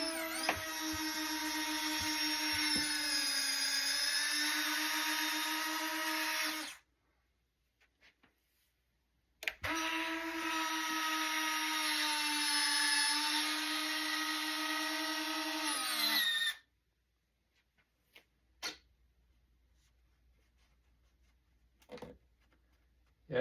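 The wing sweep mechanism of an RC Xfly B-1B Lancer model runs twice, each time a steady whirring servo drone of several seconds that stops abruptly. Quiet pauses and faint clicks come between and after the runs.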